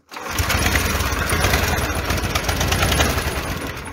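The engine of a homemade mini tractor catches and runs with a loud, close, rapid putter, settling into a steady, rough idle with a raspy mechanical clatter.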